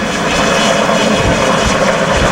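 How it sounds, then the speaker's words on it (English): Twin turboshaft helicopter performing climbing spirals at an airshow, a loud steady roar of turbine and rotor noise that fills the whole stretch without a break and without any talk. "A lot of power in this helicopter."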